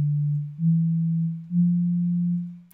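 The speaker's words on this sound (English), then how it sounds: "Again, just a sine wave." A steady pure synthesizer sine wave, the fundamental alone, hums at a low pitch with slight swells, sustained for a few seconds before fading out.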